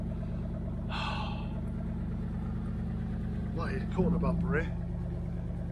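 A Triumph Stag's old engine idles steadily while warming up, a low continuous hum running throughout as someone talks briefly over it.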